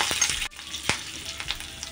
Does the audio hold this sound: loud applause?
no